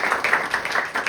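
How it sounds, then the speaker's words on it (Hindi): Theatre audience applauding the director of the play "Tax Free" as he is called to the stage. Dense, even clapping fills the whole short stretch at a steady, fairly loud level, with no voices over it. "तालियों से"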